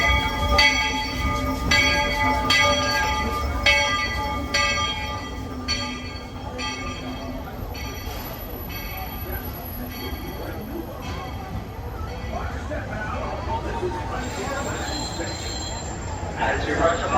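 A train led by engine number 2 rumbles and clatters into a Walt Disney World platform, with a bright ringing bell tone repeating over the steady rolling noise and some background chatter.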